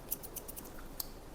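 Scissors snip a middle-aged man's thin, sparse hair during a haircut, giving a rapid run of small, crisp clicks with one sharper cut near the end. The cuts are close and quiet.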